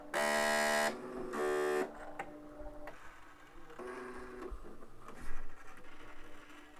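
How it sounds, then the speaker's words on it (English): A Bernina L890 overlocker serger powering on gives off a string of electronic start-up beeps and tonal buzzes, two long loud tones first, then softer chimes and hums, close and alone. "So the machine, when you turn on, it makes all different types of noises."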